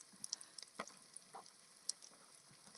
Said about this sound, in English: It's always that first sizzle